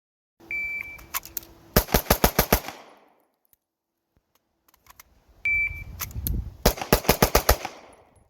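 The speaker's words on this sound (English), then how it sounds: "This thing shoots super flat and soft now." A ported Tisas 1911 Carry DS pistol fires in two rapid strings of about five sharp, loud shots each, preceded by faint beeps and clicks, with near-silence between the strings.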